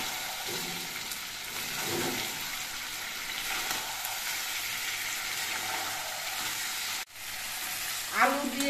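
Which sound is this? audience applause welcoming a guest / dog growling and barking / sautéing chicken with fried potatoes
sautéing chicken with fried potatoes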